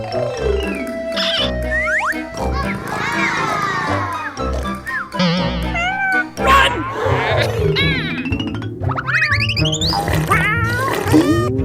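A cat meows repeatedly, high wavering cries mixed with a person's voice talking and cooing over it, close by and busy.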